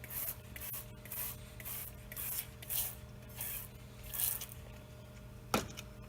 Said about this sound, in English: we can keep working the eraser